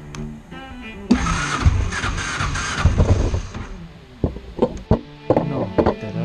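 A motorcycle engine after a start button replacement, cranking briefly, then catching and running roughly with uneven bursts and knocks close by, no voices.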